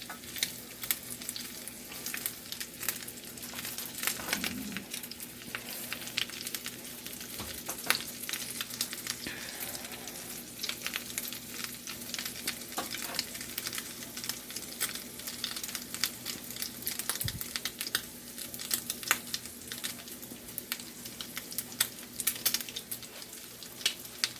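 A crab-encrusted halibut fillet frying in a pan produces a steady, faint, continuous sizzle with soft crackles, heard alone and without talk.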